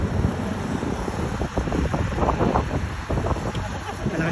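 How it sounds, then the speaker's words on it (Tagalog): Strong wind buffets the microphone during an evening walk along Olaya Street, a steady broadband roar with gusting swells throughout, loud and continuous with no clear voices. "Malakas yung hangin."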